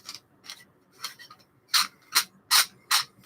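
DP75 radiation probe being unscrewed gives a series of scraping, rasping squeaks like fingernails on a chalkboard, starting faint and growing louder, about eight short strokes, close and with no voices.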